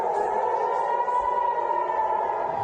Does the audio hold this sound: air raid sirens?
yes